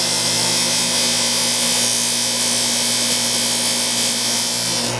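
A dental model trimmer runs at steady full speed while trimming a plaster model base, giving a loud, continuous grinding whir that stays even throughout.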